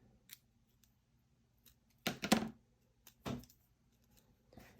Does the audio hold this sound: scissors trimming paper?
yes